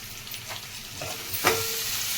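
Tomato pieces frying with ginger garlic paste in a pan, a quiet continuous sizzle with a few light stirring scrapes and one sharper clink, with no voices.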